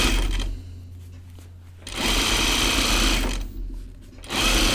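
A sewing machine runs a thick jacket side seam in two close, loud bursts of rapid stitching separated by a short pause.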